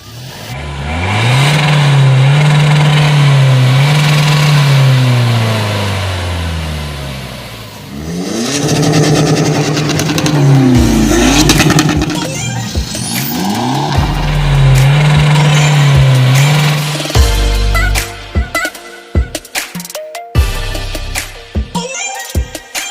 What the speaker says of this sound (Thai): อ่ะไหนลองเบิ้ลตัดหน่อยครับ